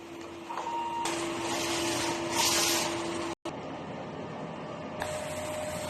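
A DTF printer runs a nozzle test, giving a steady mechanical whir with a faint tone, a brief sharp cutout partway through, then resumed machine hum, close by and with no voices.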